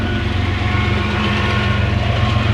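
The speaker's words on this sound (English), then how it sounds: "I got a train riding past" A train rumbles past nearby, a loud, steady low roar with faint rhythmic rail clatter running throughout.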